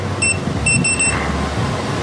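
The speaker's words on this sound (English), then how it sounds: "it double beeped at me" A keypad lock gives a quick double beep, two short high electronic tones close by, followed by a faint whirring click over low background hum.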